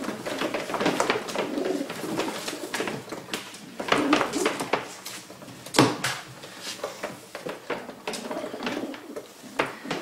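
Racing pigeons coo repeatedly in soft, throaty bursts, with occasional clatter and rustling nearby in a breeding loft; no talking.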